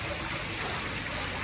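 Water flowing into a koi fish pond at a villa, a steady hissing gush with no voices over it.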